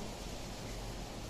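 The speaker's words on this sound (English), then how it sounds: "it's raining like cats and dogs over here" Heavy rain pours down as a constant, even hiss of broadband noise, fairly faint and heard alone without voices.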